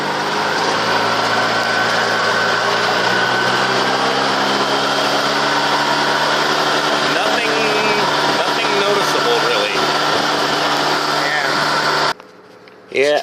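A 2002 EZGO gas golf cart engine runs flat out while climbing a slight hill, a steady high-pitched drone that holds for about twelve seconds before briefly dropping away, with people talking over it.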